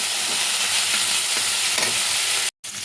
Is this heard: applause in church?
no